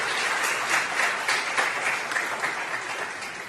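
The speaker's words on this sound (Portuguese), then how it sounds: "Você pode aplaudir ao Senhor?" A church congregation applauds continuously, a dense, even wash of many hands clapping at once, sustained and fairly loud with no voices over it.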